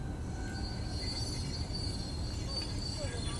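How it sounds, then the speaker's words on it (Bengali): A train passes near a road, a steady loud rumble of wheels on rails with thin high wheel squeals running throughout, close and continuous, no speech. "এই যে দেখো ট্রেন যাচ্ছে রাস্তা দিয়ে"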